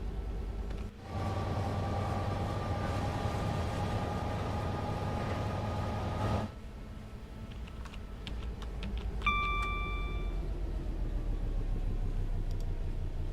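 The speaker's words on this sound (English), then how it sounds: "there's something not right with the sounds on this 66. They keep dropping in and out." Class 66 diesel locomotive in Train Sim World 4: a steady engine drone that cuts out briefly, then drops again, followed by faint clicks and a short tonal chime.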